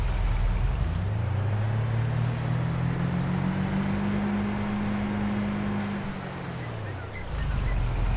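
A Land Rover driving in the game Farming Simulator 22, with a steady engine drone and a tone that rises then holds before the noise cuts away near the end, moderately loud and without talk.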